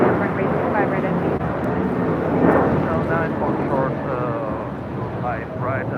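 An Alaska Airlines Boeing 737-800 takes off at LAX, a steady broadband jet roar that swells slightly midway and holds throughout, with voices talking over it.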